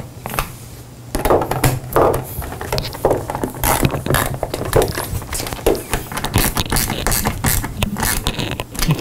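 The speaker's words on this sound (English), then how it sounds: "I'm gonna come in with a socket and tighten all these nuts down" A socket wrench tightening nuts on the hinge of an arcade control panel, with rapid close ratcheting clicks in uneven bursts and scraping metal-on-wood handling noise.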